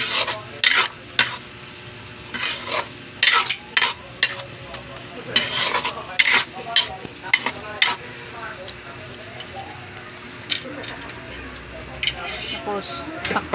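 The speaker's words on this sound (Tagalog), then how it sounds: "Haluin na natin siya, guys." A spoon scrapes and clatters in a pan of binagoongang talong, eggplant cooked in shrimp paste, making repeated irregular stirring strokes with a soft sizzle underneath and occasional voices.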